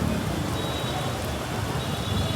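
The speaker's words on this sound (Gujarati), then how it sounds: "વરસાદ તો જો કેટલો વરસાદ છે હજુ વરસાદ બંધ થયો નથી" Heavy rain pours steadily, a dense continuous hiss of drops drumming on surfaces close by, with no voices.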